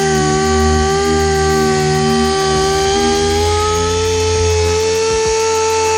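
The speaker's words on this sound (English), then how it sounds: "I've been sanding for a couple hours now" A power sander whines steadily at a high, constant pitch, loud and close, with occasional scraping bumps as it sands the hood of a Mk2 Volkswagen Golf.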